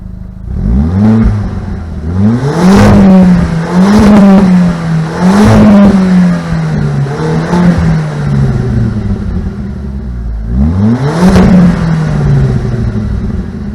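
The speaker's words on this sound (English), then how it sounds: "I am going to hop in and give you guys a little rev up." A car with its rear muffler deleted is revved several times. Each loud, close blip climbs sharply in pitch and then falls back to a throaty idle between bursts.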